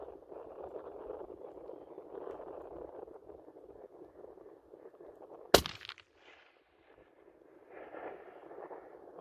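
A single sharp, loud rifle shot rings out midway while zeroing at a 100 meter target, over steady outdoor wind noise, followed by a brief quiet and then more wind.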